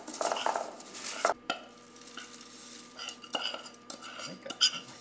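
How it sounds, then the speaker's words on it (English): Melted butter, sugar and flour being stirred in a pan over low heat, with a spoon scraping and clinking against the metal in bursts near at hand, a faint sizzle beneath. "cook together, stirring over low heat for 2 minutes"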